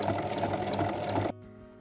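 A sewing machine topstitches a fabric glasses case, a fast steady close whir of rapid needle strokes that cuts off abruptly, leaving a faint hum.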